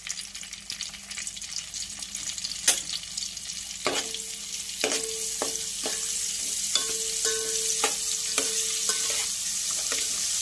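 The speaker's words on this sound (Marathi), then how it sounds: "त्याचबरोबर यामध्ये काही खडे मसाले घेतलेले आहेत ते सुद्धा घालायचे आहे आणि परतून घ्यायचं आहे।" Whole spices frying in oil and butter for a mixed vegetable pulao made with Kolam rice, a constant loud sizzle up close with occasional sharp stirring knocks and scrapes against the pan, no talking.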